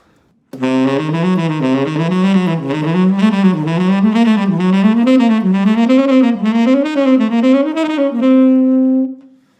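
A fast ascending diminished-scale shred run plays as a rapid stream of clean, bright single notes climbing steadily, ending on a held note, loud and alone.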